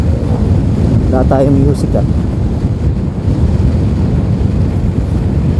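Strong wind roars against a rider on the road, a loud steady rushing that fills the whole stretch while someone talks over it.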